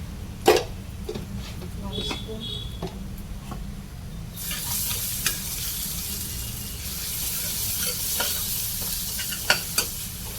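Ginger garlic paste and turmeric drop onto fried onions in a pan and are stirred. A quiet start with spoon clinks gives way to a strong sustained sizzle with occasional scrapes.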